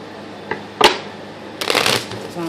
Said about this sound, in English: Two more shuffles, y'all.